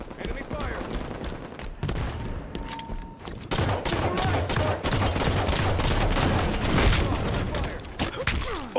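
Rapid bursts of automatic gunfire and explosions from a Halo 5 multiplayer match, loud and dense for most of the stretch, with a player talking over the fighting.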